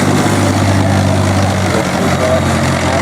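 Straight-six petrol engine in the back of an armoured vehicle with laminate armour, running as a steady loud low drone with a constant hum, heard at a tank show outdoors.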